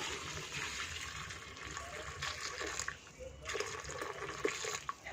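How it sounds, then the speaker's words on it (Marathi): Boiling water poured over mutton in a pot, a soft splashing, gurgling stream that rises and falls with small breaks, fairly quiet and close. "खळखळ उकळते पाणी तसं ओतायचं, म्हणजे मटण कसं पटकन शिजलं जाते"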